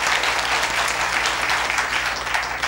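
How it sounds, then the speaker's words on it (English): A business audience in Thailand applauds to welcome GE Digital CEO Bill Ruh, with dense, steady clapping at close range that holds at the same level from start to finish. "please give a big round of applause to welcome Mr. Bill Rue"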